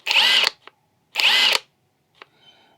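A cordless power drill unscrews in two short bursts of whirring, each about half a second long, with clicks and handling noises in between and a faint trailing rattle at the end.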